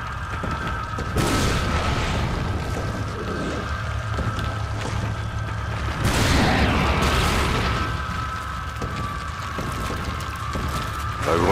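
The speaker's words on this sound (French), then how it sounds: "La grenade elle est radicale." Grenade blast in Resident Evil 4, two heavy booming bursts rising out of a dense, constant game soundscape with a steady tonal drone.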